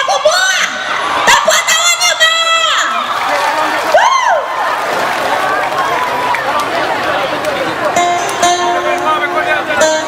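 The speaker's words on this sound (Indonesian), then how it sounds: "Tepuk tangannya bang." A crowd at an outdoor show for the 47th anniversary celebration of Payakumbuh cheers, whoops and claps loudly and steadily, with shouting voices and a presenter's voice over the noise.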